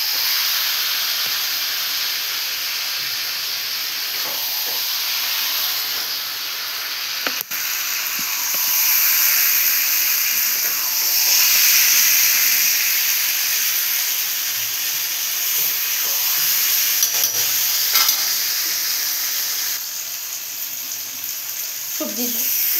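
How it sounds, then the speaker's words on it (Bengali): Vegetable spice masala with potato, pointed gourd and paneer sizzling and frying in a pan, a steady bright hiss that swells and fades slightly throughout, with faint stirring scrapes and no talk. "সবজির মশলাটা দিয়ে ভালো করে কষানো হয়ে গেছে, এখন আমি ঝোল দিয়ে দেবো।"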